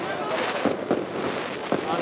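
Fireworks going off at a celebration in northern France: a dense crackling roar with several sharper bangs scattered through it, loud and continuous, with voices mixed in.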